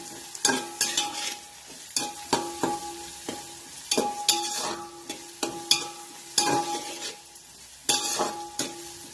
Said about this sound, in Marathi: आता पुन्हा एक 2-3 मिनिटं हे लसूण आणि आल्याची जी पेस्ट आहे ते चांगलं आपण ह्याच्यामध्ये मिक्स करून घ्यायचं आहे.